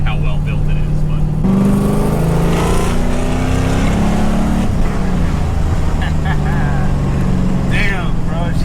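An LS V8 swapped into a Nissan 300ZX Z31 Turbo revs loudly up close, its note climbing and falling in several pulls, while people talk over the roar.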